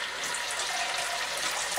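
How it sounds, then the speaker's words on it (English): Water pours steadily from a bean can into a pork and bean pepperpot cooking on high heat, a continuous close splashing rush with no voices. "about one of the bean cans full of water"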